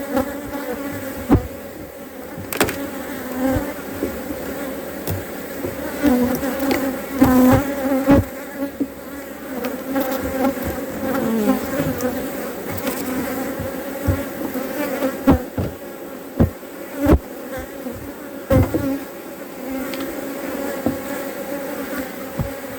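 Honeybees buzz continuously around a hive, a dense droning swarm with individual insects zipping loudly past close up, no speech.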